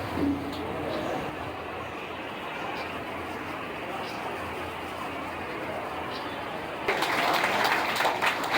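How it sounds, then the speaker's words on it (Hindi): Applause from a crowd at a stage event, a broad steady patter of clapping running throughout and swelling louder near the end, with a voice speaking over it. "स्टेज पे पीछे बैठे हुए सारे लोग सबके सब तालियां बजाएं"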